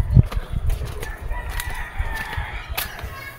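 Pet chickens at a house in a Philippine village, with a rooster crowing faintly in the background over outdoor ambience and scattered clucks and small knocks.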